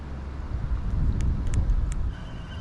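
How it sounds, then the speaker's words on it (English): Strong wind blowing over a dock on open water, a loud, steady low rumble of gusts buffeting the microphone with a few faint higher squeaks on top, no voices. "it's so windy and so tricky"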